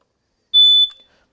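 A household smoke detector pressed on its test button gives one loud, piercing electronic beep lasting about a third of a second, close by in an otherwise silent room.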